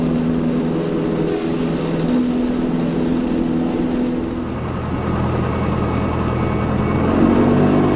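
Light aircraft engine running at a steady, loud drone throughout a takeoff roll in a right crosswind, with a continuous low rumble and a slight rise in intensity near the end; no voices.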